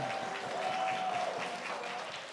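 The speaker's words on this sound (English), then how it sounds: "round of applause to every single student that was up here" A short burst of steady applause from an audience at a student leadership demo day, moderately close and fading slightly toward the end.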